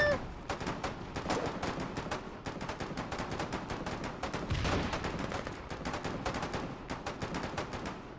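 Sustained rapid gunfire in the war game Foxhole, a dense continuous stream of sharp shots like a machine gun firing without pause at moderate loudness.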